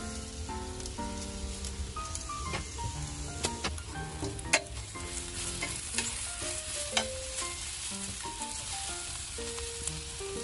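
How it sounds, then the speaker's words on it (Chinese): Rice frying in sesame oil over low heat in a wok, stirred steadily: a soft continuous sizzle with scraping spatula strokes and occasional light clinks, no voices. "这个全程的过程记得要用小火炒"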